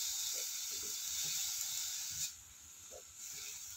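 Chopped onions and ginger sizzle in a hot iron kadai without oil, a loud, steady hiss that dips briefly midway and then picks back up, close and continuous.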